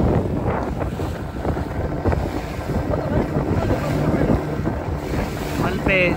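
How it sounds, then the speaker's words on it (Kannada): A tourist boat runs on the sea off Malpe near St Mary's Island, its engine a steady rumble under heavy wind buffeting and the wash of waves, continuous and fairly loud, with no talking. "ಮುಂದೆ ಟೂರಿಸ್ಟ್ ಬೋಟ್ ಬರ್ತಾ ಇದೆ, ನೀವು ನೋಡ್ಬೋದು"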